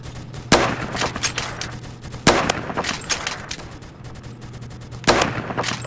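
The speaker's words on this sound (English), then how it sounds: "Now this enemy team be blowing out these pistols." Enemy pistol fire in an online shooter game, with sharp, loud reports repeating over a busy crackle of more distant gunfire, and no one talking.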